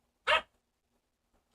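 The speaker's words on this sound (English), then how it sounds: "sorry about my dogs in the background" Two sharp dog barks in the background of a quiet indoor room, one near the start and another at the very end, separated by silence.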